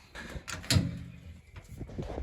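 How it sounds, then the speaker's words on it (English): A workshop drawer full of spare parts such as hoses is opened or closed, giving a short wooden-metal knock and slide with a sharp thump near the middle, close and moderately loud, with no voices. "I don't even know what's in this drawer"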